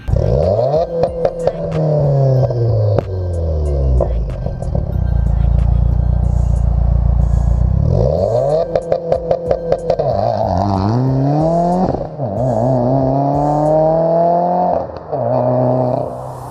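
A 2017 Subaru WRX with a stage 2 tune and a catless turbo-back exhaust revs repeatedly up close, its turbo spooling with a rising and falling whine over a loud exhaust drone and crackling pops.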